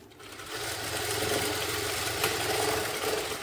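A sewing machine runs in one continuous close hum while stitching a kurti, a steady motor whir with no talk.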